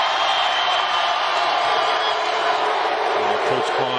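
Basketball arena crowd at a Nicholls State versus Arizona college game, a steady loud roar of cheering fans that fills the space without letup, with faint voices mixed in.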